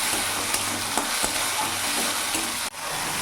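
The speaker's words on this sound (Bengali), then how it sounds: "কিছুক্ষণ মশলাটা আমি নাড়াচাড়া করে একটু ভেজে নিলাম।" Ginger-garlic-chili paste fries for tilapia curry in a loud, steady oil sizzle. A spoon stirs and scrapes the pan at intervals, and a brief dropout comes near the end.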